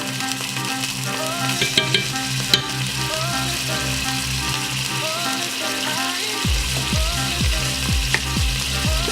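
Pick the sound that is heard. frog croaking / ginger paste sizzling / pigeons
ginger paste sizzling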